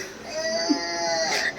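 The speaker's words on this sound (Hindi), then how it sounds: "आप रोने की आवाज़ सुन रहे होगे" A baby cries briefly, a close, tonal wail with a whimpering edge and no other voices.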